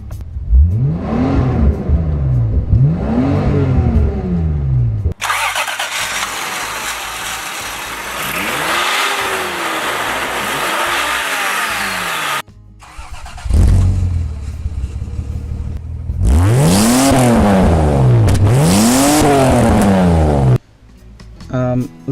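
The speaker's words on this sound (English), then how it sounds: "Now let me start the car and quickly show you the engine bay, followed by some exhaust sound." 1982 Toyota Crown Royal Saloon engine idling and being revved, with repeated rising and falling swells of exhaust and engine tone heard close up, including louder blips in the latter part.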